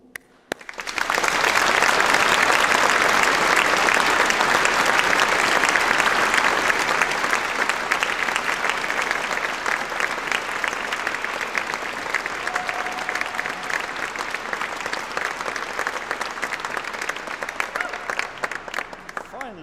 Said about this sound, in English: I'd like to invite you to join me in one final round of applause for them all